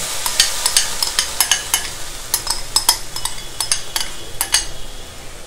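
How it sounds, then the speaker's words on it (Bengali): Spices stirred in an oil-free nonstick pan for Goan fish curry give sharp, repeated metallic scrapes and clinks of a utensil against the pan. The sound is close and steady over a faint background hiss, with no talk. "আমি এরকম একটা ননস্টিকের প্যান বসিয়ে নিয়েছি এর মধ্যে দিয়ে দিচ্ছি মশলা"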